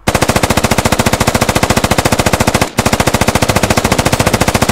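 Rapid automatic machine gun fire in the video game Squad hammers out in a loud, relentless stream, broken by one brief pause partway through before the burst resumes at the same pace.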